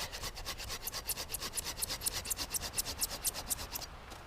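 A Silky Katana Boy 70 pruning saw cuts through dry poplar with steady, rhythmic rasping strokes, about fourteen back-and-forth pulls at a brisk, even pace, close and clear with no talk.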